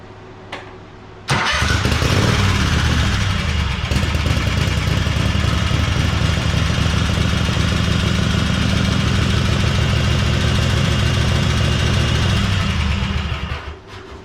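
A small engine with its choke pulled starts abruptly and runs at a steady, loud, rough idle for about twelve seconds before cutting out.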